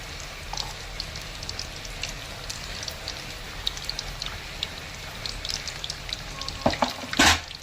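Rava kajjaya batter, a sweet semolina fritter, frying in medium-hot oil, a steady close crackling sizzle with scattered pops and a louder burst of spattering near the end; no voices.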